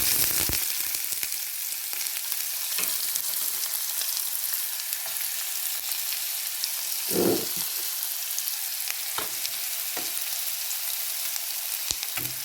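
Mustard seeds, fennel seeds and onion frying in hot oil, a continuous bright sizzle close up, with a few stirring knocks and one louder burst of crackle partway through.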